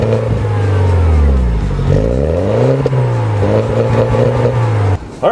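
A 2012 MINI Cooper S Coupe engine revs hard under full-throttle acceleration, its pitch climbing, dropping at each gearshift and climbing again in a loud, close, continuous drone that cuts off abruptly near the end.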